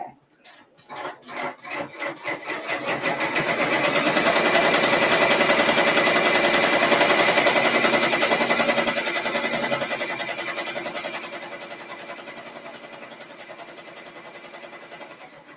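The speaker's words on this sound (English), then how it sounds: "When I press start, I'm again going to add another reserve stop so that the machine will stop after the tack down stitch" Brother Entrepreneur PR680W embroidery machine stitching an applique tack-down stitch, a steady close mechanical whirring with rapid rhythmic needle clatter that ramps up from a few pulses, holds for several seconds, then eases slightly, with no talking.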